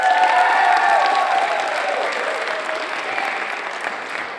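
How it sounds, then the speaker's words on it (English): Audience applause at a school story slam: a full room claps steadily and close, fading gradually over a few seconds with no voices on top. "Everyone, a round of applause for Shannon Emerson."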